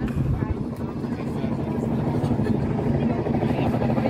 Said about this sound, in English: Helicopter in the background.